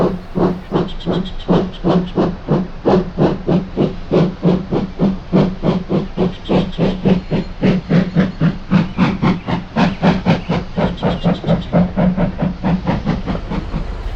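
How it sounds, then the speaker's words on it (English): Rhythmic steam locomotive chuffs, steady and loud, with hissing steam over a low rumble, continuing evenly throughout. "And Thomas puffed away with his first train."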